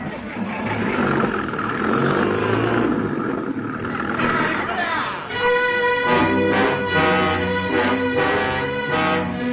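A truck engine in a 1955 radio drama of The War of the Worlds revs up loudly and roars away, with dense rumbling and a rising growl, then music swells over it toward the end.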